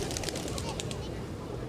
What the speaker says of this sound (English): London's Trafalgar Square is a gathering place for feeding birds